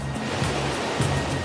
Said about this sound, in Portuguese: Os ventos ultrapassam 160 km por hora e as ondas ficam com mais de 6 metros de altura.